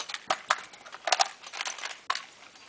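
An airsoft gun is reloaded with a quick run of small plastic clicks, snaps and rattles, close and fairly faint, with no talk.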